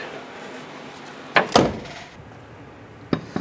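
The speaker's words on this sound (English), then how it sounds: "And then close the trunk." The trunk lid of a 1994-2004 Ford Mustang is shut, giving a pair of sharp thuds followed by two lighter knocks a moment later.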